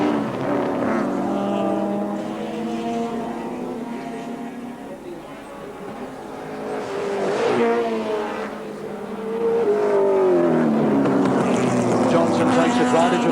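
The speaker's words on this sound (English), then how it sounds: "the grunt of the big V8 Holden Commodore shows out again as they come down to Castrol Loop" A V8 Holden Commodore Group C touring car races at Wanneroo Raceway in 1984, its engine roaring and shifting pitch as it passes, with a commentator talking over the racing noise.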